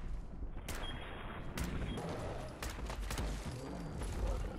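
Gunfire in Fallout 4 aimed at a Deathclaw, several sharp shots spaced irregularly over a dense rumbling game soundscape, moderately loud against continuous low background noise.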